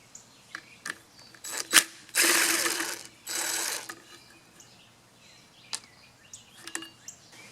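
Small Torx screws come out of the fuel tank of a mini two-cycle tiller, heard as two short bursts of a driver spinning up close, with scattered clicks and taps of the tool and parts around them.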